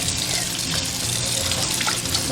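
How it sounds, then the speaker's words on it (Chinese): Marinated fish is rinsed under a running kitchen tap, a continuous close splash and gush of water with no pauses. "把腌制的鱼清洗一下就可以煎了。"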